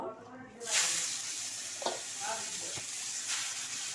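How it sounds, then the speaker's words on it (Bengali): Greens (saag) dropped into hot oil in a pan burst into a loud hissing sizzle that settles into steady frying, with a few stirring scrapes. "তো বন্ধুরা তেল গরম হয়ে গেছে এখন শাকটা দিয়ে দিব"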